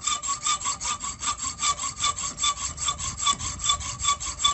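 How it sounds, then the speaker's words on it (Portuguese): A multipurpose hacksaw cuts through a thick metal nail with steady, evenly rhythmic back-and-forth strokes, close and bright, with no voices. "Vamos ver se o material aqui, se a lâmina de serra suporta cortar esse prego."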